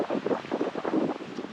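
Strong wind buffets across a camping spot by the bay, a gusty, rumbling rush hitting the microphone in uneven pulses, with no talk.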